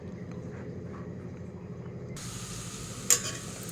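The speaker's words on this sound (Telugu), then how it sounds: "ఈరోజు ఇప్పుడు ఈ గంజులో ఇది వేసి ఒక చెంచా నూనె వేసి ఉడికించుకోవాలి." Fenugreek and coriander leaves cooking in a spoonful of oil in a pan, giving a steady soft sizzle and bubbling hiss that grows brighter partway through, with a brief clink near the end and no talking.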